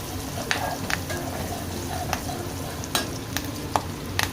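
Turmeric and asafoetida fry in hot tempering oil, giving a soft, steady sizzle broken by several sharp clinks of a spoon stirring the pan.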